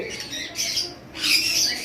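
A high-mutation lovebird just out of quarantine squawks close by, letting out harsh, raspy calls in two quick bursts.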